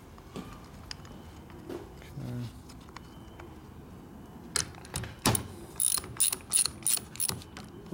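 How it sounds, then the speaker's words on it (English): A small mini ratchet clicks in short bursts while working on the chassis of a 1999 80ci Evo motorcycle with a rigid frame, the rapid pawl clicks growing louder and more frequent in the latter half, close up with no speech. "Let's go grab the little mini ratchet."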